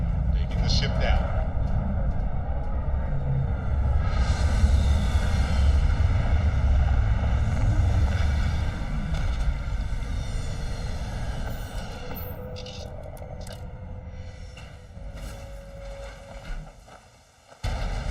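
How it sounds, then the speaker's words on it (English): A spaceship descends to land on a planet in the video game Starfield, its engines a deep, sustained roar that slowly tapers off near the end, with a voice talking over it. "Taking the ship down."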